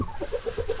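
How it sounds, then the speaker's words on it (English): Backyard chickens cluck close by in a snowy coop, a rapid run of short, evenly spaced clucks rising and falling in a rhythmic patter with no talking. "These guys are a bunch of chickens and they don't want to come outside"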